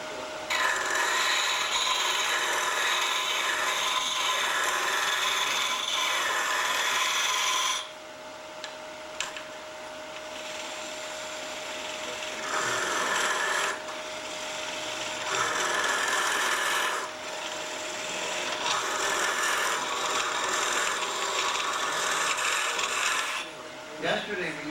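Steady scraping and rasping of a gouge cutting wood on a spinning lathe, in long continuous passes broken by short pauses, close and fairly loud.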